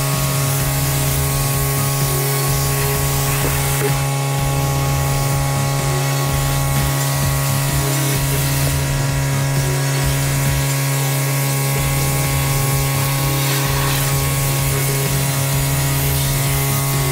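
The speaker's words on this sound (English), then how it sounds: "that way the power washer will be able to come in and spray the rest of that off" A power washer sprays continuously to blast off loosened dirt and grime, a steady loud hiss over a constant motor hum that runs unbroken from start to finish.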